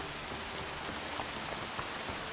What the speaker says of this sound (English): Yeah, it's raining, obviously.